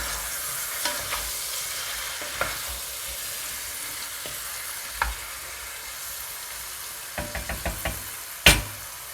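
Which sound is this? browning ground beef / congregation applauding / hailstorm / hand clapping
browning ground beef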